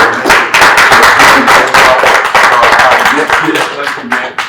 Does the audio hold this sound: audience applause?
yes